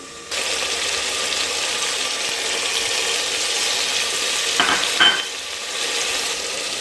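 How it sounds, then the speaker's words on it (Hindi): Ground coriander and garam masala roasting in a pan for palak chicken, giving a steady close broadband sizzle with occasional scraping stirs and a couple of brief metallic clinks, no voices. "ये मसाला हमारा भुन रहा है"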